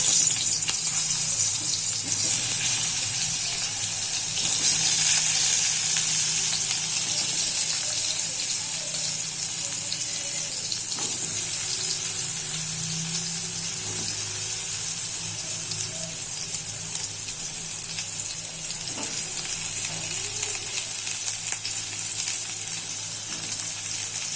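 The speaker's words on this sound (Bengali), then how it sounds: "এবার ওই তেলেতে আমি বেগুনগুলো ভেজে নেব।" Steady broadband sizzle of eggplant frying in hot oil, continuous and fairly loud throughout with no talking.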